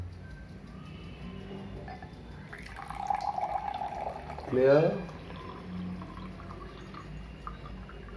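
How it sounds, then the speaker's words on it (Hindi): Water poured off the top of settled sediment during a simple decantation, a brief liquid trickle mid-clip under a person speaking. "हम इस नीचे वाले सेडिमेंट को डिस्टर्ब नहीं करेंगे और ऊपर वाले पानी को बाहर निकाल देंगे इस तरह"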